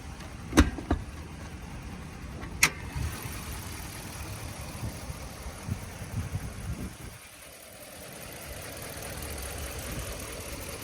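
A 2015 RAM 1500 crew cab pickup's engine runs at a steady idle, a low continuous rumble with a couple of sharp clicks early on and a brief dip before the hum resumes.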